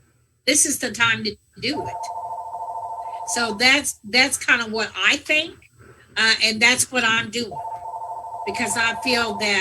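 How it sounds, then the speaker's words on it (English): A telephone ringing in steady electronic tones, repeating twice and continuing under someone talking close to the microphone. "so I apologize that my phone is ringing"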